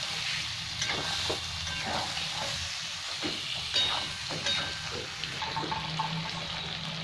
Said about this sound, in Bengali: চিকেনটাকে একটু ভালো করে ভেজে নেবো